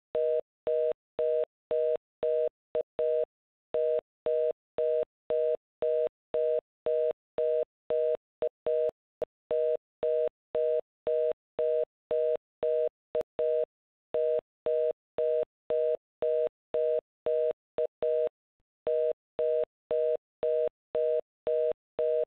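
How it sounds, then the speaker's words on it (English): Telephone tone beeps in a steady repeating pattern of short pulses with regular gaps while a phone conference is started; clear, constant level, no talking. "Let me start up the phone conference again."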